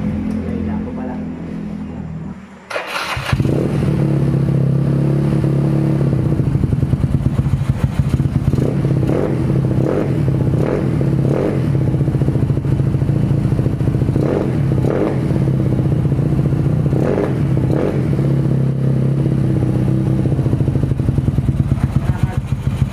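A motorcycle fitted with a big valve cam and an out-of-tune carburetor idles loud and close, first a short quieter stretch, then a sudden catch into a steady roar with repeated revving blips.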